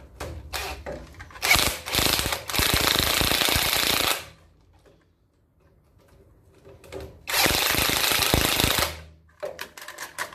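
Ratchet wrench working on the swivel hub bolts of a Land Rover Series project, two loud bursts of rapid metallic clicking separated by a quiet pause, close up with no talking.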